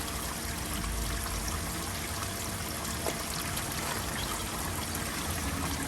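Steady rushing water flows continuously, a dense broadband wash with no talk over it, close and fairly even throughout.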